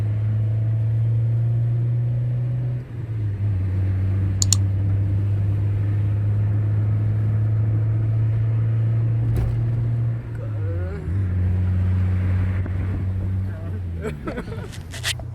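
A Peugeot 206 fitted with a Honda radiator drones at a steady idle, with a few brief revs and pitch shifts, close and continuous, with faint voices and clanks nearby.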